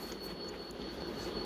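CSX locomotives with the 5386 unit leading a three-locomotive military train pass in the Roblox video game, producing a steady, continuous rail rumble and wheel noise with a thin high tone, held at an even level throughout.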